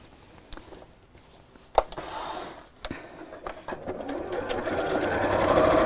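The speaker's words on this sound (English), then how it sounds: "So I'm just going to sew just underneath there." A sewing machine stitches through fabric nearby, with a steady mechanical whirr that builds louder and faster toward the end after a few scattered clicks and handling knocks.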